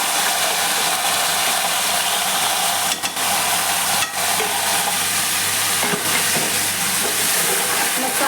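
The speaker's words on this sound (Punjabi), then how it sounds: "ਮਸਾਲੇ ਨੂੰ ਹੁਣ ਆਪਾਂ ਚੰਗੀ ਤਰ੍ਹਾਂ ਭੁੰਨ ਲਵਾਂਗੇ ਜੀ" Ground masala with cumin frying in hot oil, a dense, steady sizzle that stays loud throughout, with a couple of brief dips where it is stirred; no talk.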